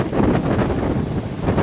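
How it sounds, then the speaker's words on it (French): A strong headwind batters the microphone on a sailboat, a dense, continuous roar of buffeting gusts with no talk, close and loud throughout. "Toujours beaucoup de vent de face."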